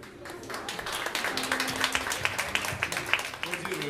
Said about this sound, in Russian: Аплодируем вам стоя